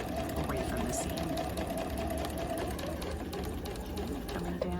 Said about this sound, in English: I'm just going to sew across